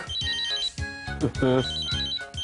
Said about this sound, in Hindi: उषा का फोन है।